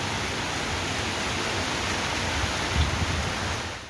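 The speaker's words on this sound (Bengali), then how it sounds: "আর মুষলধারে বৃষ্টি হচ্ছে এখনও।" Heavy rain pouring down outdoors, a dense, even wash of broadband noise, steady and moderately loud with no pauses.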